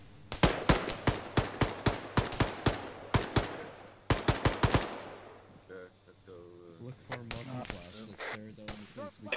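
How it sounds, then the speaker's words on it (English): Gunfire in the Arma 3 combat game, sharp shots in quick bursts that ring out loud and close for the first five seconds, then give way to a voice talking over a low hum. "We're getting shot from behind."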